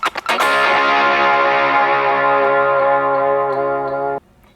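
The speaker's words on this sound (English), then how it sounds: "I kind of do these little check strums sometimes" A few quick scratchy strums on a distorted electric guitar lead into a loud full chord that rings out for several seconds before cutting off abruptly.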